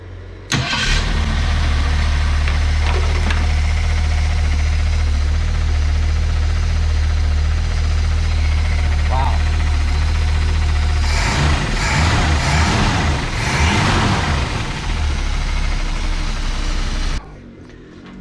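A 1971 Ford Maverick engine with worn-out bushings starts up and runs steadily, a loud continuous low rumble near the microphone, rising in roughness toward the end before cutting off.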